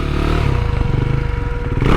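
A KTM Duke 390 motorcycle engine during stand-up circle wheelie practice in a parking lot, revving steadily at close range with a rough, pulsing clatter that swells again at the end, no talking.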